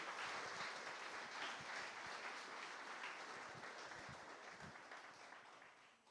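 A church congregation applauds in a broad, steady wash of clapping that slowly fades toward the end, heard from a distance and fairly faint.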